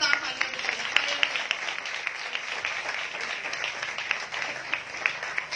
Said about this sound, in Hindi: के लिए जोरदार तालियां बजाएं